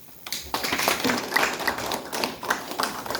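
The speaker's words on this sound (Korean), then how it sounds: "큰 박수 보내주십시오" An audience at a spring literary society event claps for the association's chair and officers, a moderate burst of scattered, uneven hand claps rising quickly after a quiet start and continuing throughout.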